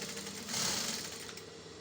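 A sewing machine stitches fabric panels for a faux wrap skirt, giving a steady, close, even mechanical whir throughout with no voices.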